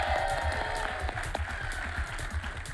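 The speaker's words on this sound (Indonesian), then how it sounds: "tepuk tangan dulu buat Koboi Cantik" Studio audience applause on an Indonesian TV quiz show, a dense burst of many hands clapping at once, fairly close and steady throughout the short stretch.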